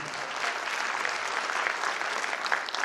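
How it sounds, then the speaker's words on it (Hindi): Sustained clapping from an audience at a corporate company event, loud and even throughout with a few sharper claps standing out near the end. "थोड़ा पीछे वाले होंगे भी एक बार तालियां बता दीजिए"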